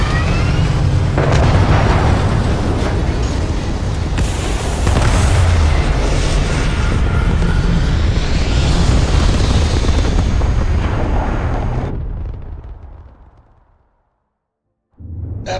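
A spaceship lifts off in the Starfield game with a sustained, loud, roaring rumble that holds steady for about twelve seconds, then fades to silence before a sudden return of sound at the end.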